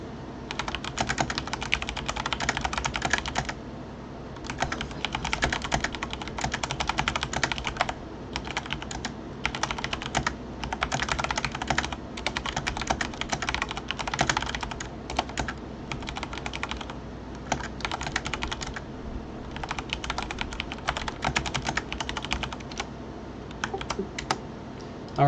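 Loud, rapid typing on a computer keyboard, close to the mic, in dense bursts broken by short pauses, with steady fan hum underneath and no talking.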